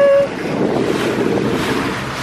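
A small rented boat cruising on the sea off Zakynthos, with rushing water and heavy wind buffeting the microphone, loud and steady with no talking.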